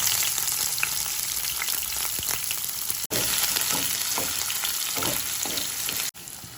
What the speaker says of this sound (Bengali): ওই ভেজে নেওয়া তেলটাতে আমরা গোটা জিরে দিলাম, পেঁয়াজ দিলাম